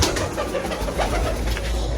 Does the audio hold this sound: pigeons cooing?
yes